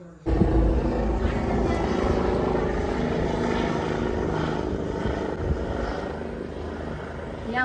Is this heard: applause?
no